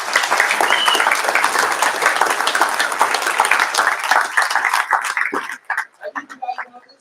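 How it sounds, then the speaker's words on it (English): A student crowd at a hackathon kickoff ceremony gives a big round of applause with scattered cheers, the clapping loud at first and then thinning out into a few last claps and voices. "Can we give a huge round of applause?"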